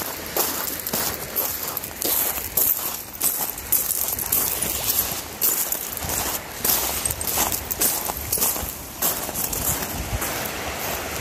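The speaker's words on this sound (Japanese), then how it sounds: "シャラシャラシャラシャラサンゴの音が。" Coral fragments rattling and clinking in the surf at Nago Bay, a dense, irregular shimmer of bright clattering that rises and falls with each wash of water, close and continuous.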